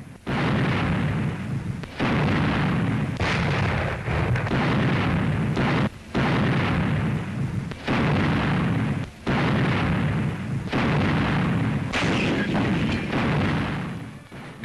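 Field guns of the 8th Army fire in the Italian campaign, a series of heavy booms about every two seconds, each with a long rumbling tail, loud and close.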